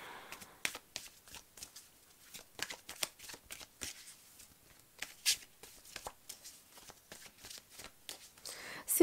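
Cards shuffled by hand at close range, a quiet run of rapid crisp flicks and riffles that keeps going, ending with a louder clatter, and no talk.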